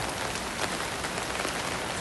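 Steady rain falls on a night walk in Phuket, Thailand, a continuous, even hiss of drops spattering on surfaces nearby, with no voices.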